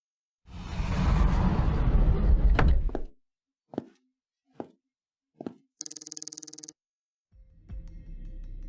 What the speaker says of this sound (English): so you move to open the next door